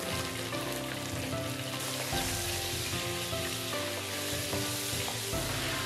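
Minced garlic stir-fried with oyster sauce and soy sauce in a wok for oyster-sauce lettuce, giving a constant bright sizzle with stirring scrapes and clanks running through it.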